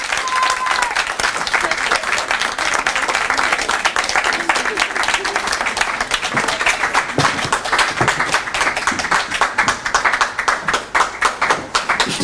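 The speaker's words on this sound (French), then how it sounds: "On peut l'applaudir" Sustained audience applause at a singing contest awards ceremony, dense and loud clapping filling the room continuously with a few sharper individual claps standing out.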